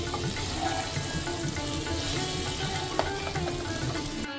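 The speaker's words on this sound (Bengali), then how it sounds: "মাঝারি আছে সময় নিয়ে ওলগুলোকে বেশ ভালো করে ভাজবো" Elephant foot yam pieces coated with turmeric and chili powder fry steadily in a pan, a continuous close sizzle with faint stirring scrapes and a single sharp clink near the end.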